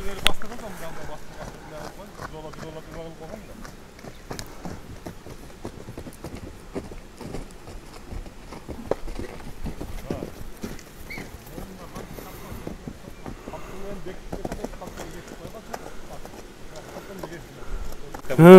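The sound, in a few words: horse hooves walking at a horse market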